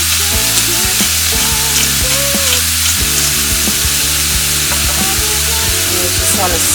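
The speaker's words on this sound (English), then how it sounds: "You just want to stir everything around." Mushrooms and pepper sizzle and fry in a pot while being stirred, a steady loud hiss broken by scraping utensil strokes and occasional clunks throughout.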